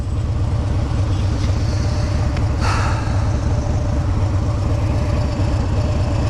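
Cars idling in heavy traffic, a loud steady low engine rumble close by, with a brief passing whoosh partway through.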